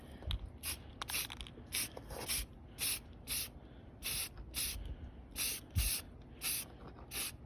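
Short hissing bursts of spray paint applied in light coats to model parts, about a dozen evenly spaced sprays with brief pauses between, fairly close and moderate in level.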